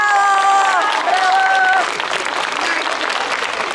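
Audience applause for a pair of dancers from a Bulgarian folk ensemble, loud and dense, with music still ringing through the first half before the clapping carries on alone.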